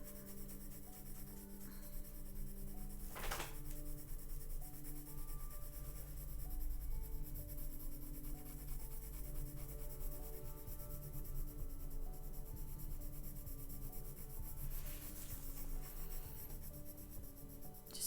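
Steady, soft scratching of a colored pencil shading across paper in warm gray, a continuous fine rasp close up with a couple of sharper strokes along the way.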